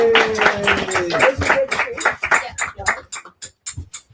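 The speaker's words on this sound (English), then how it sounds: "Big round of applause for Jeremy." Applause for a contributor named Jeremy at a charity auction, a burst of hand claps that thins into scattered, separate claps and fades out over a few seconds, with a faint tone under the start.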